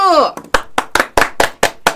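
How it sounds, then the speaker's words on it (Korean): Several distinct claps ring out in an even rhythm at a Korean political talk broadcast, following a brief voice at the start, loud and close with short gaps between each beat. "자, 여러분, 우리 한 대행에게 박수!"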